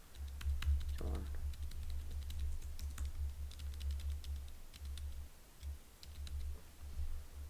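Computer keyboard keys click in quick irregular bursts while tabbing through a web page, faint and close over a constant low electrical hum.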